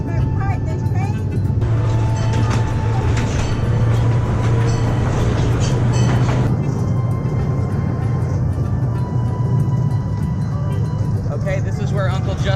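Rumbling, rattling ride aboard a small train on a farm, with a constant low drone and clatter, while people talk loudly over it.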